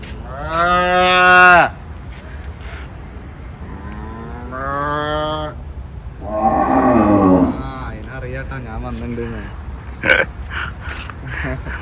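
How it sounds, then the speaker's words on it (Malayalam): Several loud moos from cows at an animal market in Sharjah come one after another with short gaps between them, close by, with some breathy sounds in between. "അതേത് വേറെ പശു"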